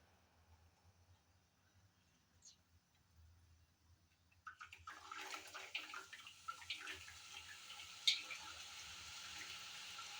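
Gram flour batter drops into hot oil for boondi for motichoor laddu, bursting into a dense sizzling crackle that starts abruptly after a few quiet seconds and continues steadily, close and fairly loud.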